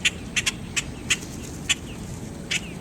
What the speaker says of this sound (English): Listen to those voices, those chirps